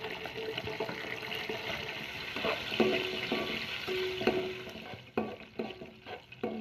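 Chopped onion hitting hot oil with toasted cumin seeds for tomato rice, giving a steady close sizzle with scraping stirs and brief knocks of a spoon against the pan, no voices.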